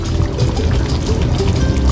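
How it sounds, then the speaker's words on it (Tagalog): Water poured from a container into a pot of spicy chicken afritada simmering with carrots and potatoes, a steady close splashing and trickling pour that runs continuously for about two seconds, with no talking. "Ako po ay magdadagdag pa po ng tubig."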